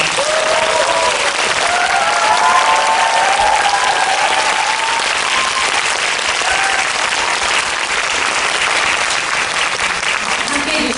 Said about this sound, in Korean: 배우분들, 감독님들에게 박수 크게 부탁드립니다